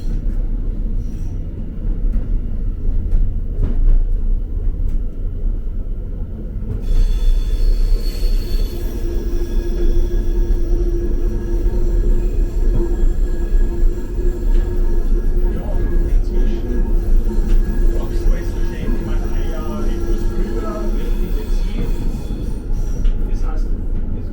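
A train on an Austrian railway rolls past nearby with a heavy, continuous rumble and clatter that grows louder midway, accompanied by faint metallic squeals.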